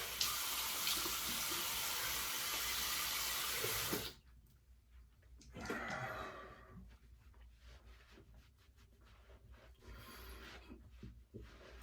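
Steady rush of cold tap water pouring into a sink for a few seconds during a shave rinse, then cut off, followed by quieter splashing and dripping.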